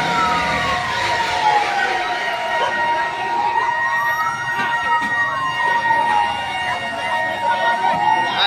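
Fire truck siren wails in a long rising and falling sweep at a fire on a street in Baclaran, Parañaque City, loud and steady over a busy crowd and traffic murmur.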